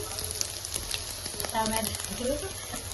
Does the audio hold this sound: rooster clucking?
no